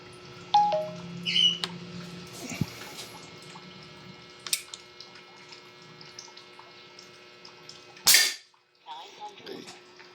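A Sigma platform air rifle fires a 34-grain pellet in one sharp, loud crack that stands out against quiet room background with scattered small handling noises.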